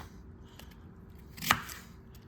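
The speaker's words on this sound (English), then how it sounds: "I just chunk it up like this as it's going into the" A knife chops through a peeled onion into rough chunks for blender salsa, giving one sharp, close cut over quiet room tone.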